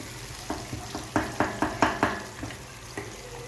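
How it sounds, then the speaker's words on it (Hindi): Chicken karahi, a spicy Peshawari charsi-style dish, frying over full flame in a pan, with sizzling and a series of distinct stirring scrapes about every half second, close and moderately loud, no talk. "अब मैं इसको फुल फ्लेम में भून लूँगी।"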